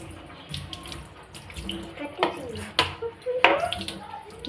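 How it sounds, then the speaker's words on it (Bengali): Water is splashed into spices frying with salt in a cooking pan, making uneven splashing and sizzling bursts that grow louder toward the end, close to the listener. "ভেজে ভেজে কষিয়ে একটু জল দিয়ে দেবো"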